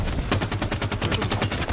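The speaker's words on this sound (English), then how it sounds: "Oh, I shot you in the head." Rapid automatic gunfire in Halo 5, a close, loud burst of evenly spaced shots rattling without pause for the whole moment.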